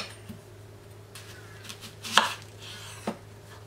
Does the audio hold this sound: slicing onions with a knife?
yes